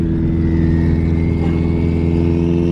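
Subaru STI built toward 1000 hp, revving under a throttle tip-in in second gear, a loud, close, sustained engine drone with stacked harmonics and a slowly climbing whine.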